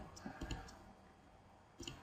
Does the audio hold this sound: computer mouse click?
yes